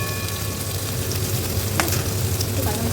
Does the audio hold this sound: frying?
yes